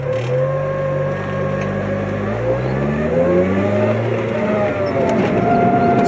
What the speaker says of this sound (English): we heard a suspicious whining sound coming from the front of the car